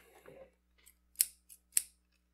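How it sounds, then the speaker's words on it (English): Scissors cut paper for a handmade Christmas ornament, two crisp snips near and alone after a few soft rustles. "So we're gonna get the scissors."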